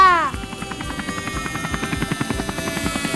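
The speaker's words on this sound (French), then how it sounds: "il est temps pour l'hélicoptère d'atterrir" A helicopter's rotor chops steadily and loudly, a fast pulsing whir with a buzzing engine hum throughout.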